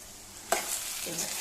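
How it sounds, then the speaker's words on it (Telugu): Eggs frying in oil for vankai pulusu, a soft steady sizzle with one sharp utensil tap against the pan, close but quiet. "చూడండి, ఆయిల్లో మంచిగా వేగిపోయినాయండి."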